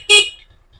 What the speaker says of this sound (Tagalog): Stock horn siya.